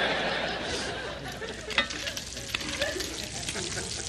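Bacon fries in a pan until crispy, a dense steady sizzle with occasional pops and stirring clatter, faint chatter in the background.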